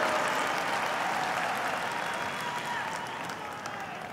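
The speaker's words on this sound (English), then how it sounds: "So please give Mr. Weissman a nice round of applause" An audience gives a sustained round of applause for Mr. Weissman, dense clapping throughout that fades slowly over a few seconds, with no talk over it.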